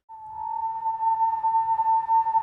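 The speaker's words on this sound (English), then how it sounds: "So this is going to be dry, eerie whistling." A steady, dry whistling pad tone for a sampled instrument holds one eerie pitch without wavering, with a faint low rumble underneath.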